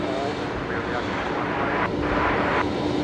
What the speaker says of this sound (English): There's our next arrival, just cleared to land, runway 19 left. Qantas 938 coming in from Perth.